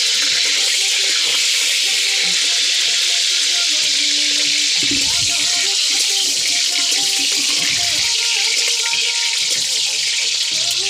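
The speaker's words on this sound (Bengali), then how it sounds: "লঙ্কাগুলো গাইস একটু ভাজা ভাজা মতন হয়ে আসবে," Four chillies sizzle loudly in already-hot oil, a constant bright crackling hiss filling the whole stretch, close to the pan.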